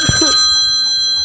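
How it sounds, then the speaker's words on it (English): A telephone bell rings steadily and loudly with a bright, continuous tone, and a brief vocal sound is heard at the very start. "Let it go on ringing. I won't answer it."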